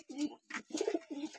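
A large white female pigeon coos nearby in a few soft, throaty bursts separated by short pauses.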